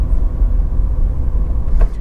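Heard from inside, a 1994 BMW 318iS E36 Class II Motorsport four-cylinder gives a steady, low rumble while cruising gently as it warms up, with a faint brief click near the end and no talking.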